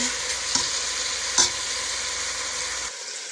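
Steady hot-oil sizzling of chicken frying, with a couple of brief scraping stirs of a utensil in the pan; no voices.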